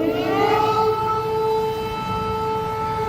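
A civil defense siren sounds through a city centre, a loud steady wailing tone holding unbroken throughout with no voices.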